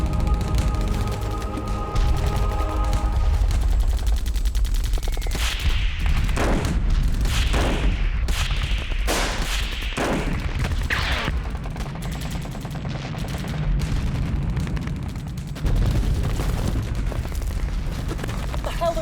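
Artillery and gunfire from a war film battle scene: a sustained barrage of loud booms and rapid shots bursts out after a radio call for fire, with shouted voices and heavy rumble beneath.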